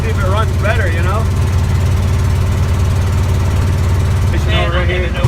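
A Volkswagen Beetle engine fitted with a new exhaust, driving uphill, gives a steady, loud low drone throughout, with voices talking over it.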